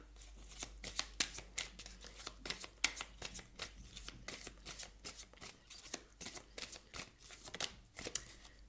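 Tarot cards cut and shuffled by hand, a rapid run of crisp papery riffles and slaps in an uneven rhythm, close and clear, with no talk.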